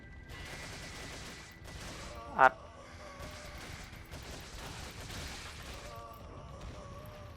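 Gunfire in Resident Evil 4, with one loud sharp shot standing out over a rumbling background of game noise and repeated muffled shots.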